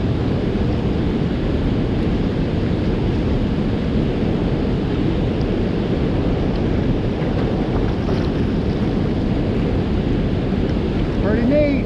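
Turbulent river water churns below the Osage River lock and dam, where water pours over and piles into froth. A steady, loud, broadband roar runs unbroken throughout, with wind buffeting the microphone.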